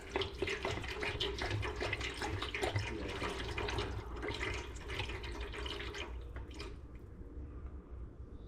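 Vegetable oil poured in a steady, continuous stream into a deep fryer, a close, liquid splashing rush that eases off near the end.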